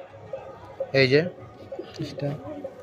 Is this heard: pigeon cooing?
yes